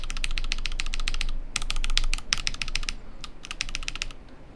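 SP Star Meteor White switches on a Nooir Noland N1 keyboard are typed in several fast bursts with brief pauses, each keystroke a sharp, clacky click heard close and alone.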